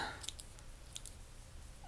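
Scissors snipping craft material for scrapbooking embellishments, faint quick clicks and snips scattered over a quiet background, close by with no talking.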